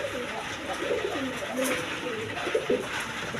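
A pair of Bombay pigeons, one settled on eggs, coo in soft rolling phrases over a steady background hiss.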